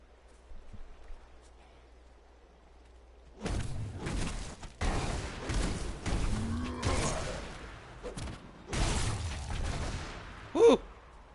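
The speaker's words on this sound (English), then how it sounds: "That was a big explosion." Big explosions from the Diablo 3 video game boom out in a rapid series of loud, heavy blasts after a quiet start, ending with one sharp final burst.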